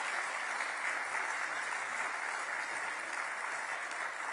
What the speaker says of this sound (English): give it a applause